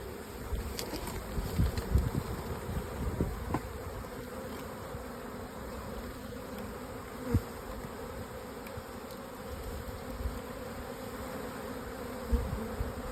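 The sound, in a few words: swarm of bees buzzing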